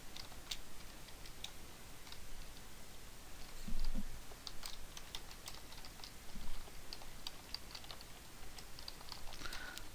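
Soft, steady typing on a computer keyboard, heard as a quiet stream of light key clicks with a couple of slightly louder thumps, continuing for about ten seconds with no talking.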